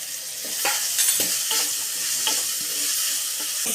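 Onion and green chili being sautéed in a pan, a steady sizzle broken by repeated short scrapes and knocks of a spoon against the pan, close and fairly loud, no one speaking.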